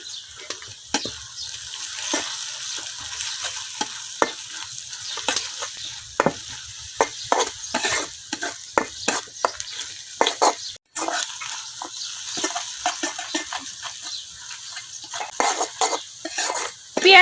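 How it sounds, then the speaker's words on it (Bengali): Onion frying with ground turmeric, chili, cumin and a little salt is stirred in a pan, with frequent sharp spatula knocks and scrapes over a soft, faint sizzle at close range. "পেঁয়াজের সাথে গুঁড়া মশলাটাও আমি খুব ভালোভাবে কিছুক্ষণ বাজি করে নিচ্ছি"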